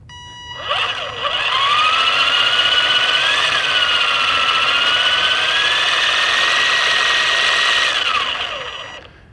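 A brushed motor in a Redcat Blackout RC car runs during break-in, spinning up to a loud, steady high-pitched whine that holds with slight pitch shifts, then winds down at the end.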